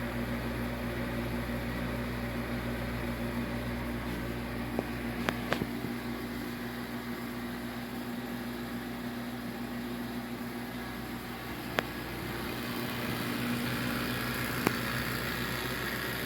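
A freeze dryer's vacuum pump runs on a styrofoam pad during the drying stage of a batch of farm eggs, a constant low mechanical drone with a steady hum and a few faint clicks, close by, with no voices.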